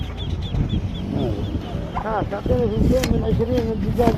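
Chickens cluck and squawk in short bursts amid a busy local weekly market in Saudi Arabia, with people talking nearby over a constant low hum.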